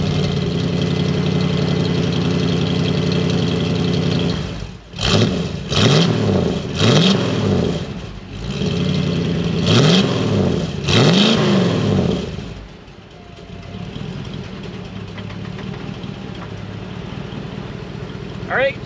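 A Ford OBS F250 pickup with a custom exhaust idles with a deep rumble, then revs hard in several quick bursts, each rising and falling, before settling back to a low idle.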